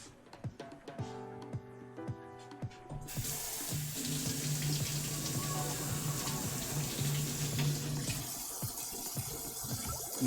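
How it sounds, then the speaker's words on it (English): Leeks are washed under a running kitchen tap, with soft handling clatter at first and then a steady gush of water that continues until near the end. "Now I'm going to go ahead and wash these a second time, because with leeks, you get dirtiness in between the layers."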